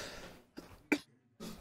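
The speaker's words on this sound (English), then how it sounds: "I've been coughing my guts out." A person recovering from COVID coughs in short, separate bursts, three or four dry hacks spaced apart with quiet gaps between them, close to the microphone.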